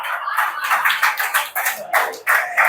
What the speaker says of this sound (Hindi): खुद के लिए एक बार जोरदार ताली लगा दीजिए प्लीज